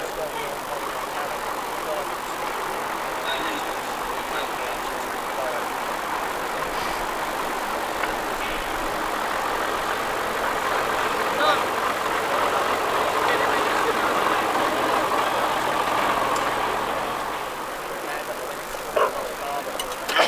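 A 1965 Bedford TK lorry on a road run, its engine idling in a steady mid-pitched chug that swells slightly in the middle, with talk over it throughout.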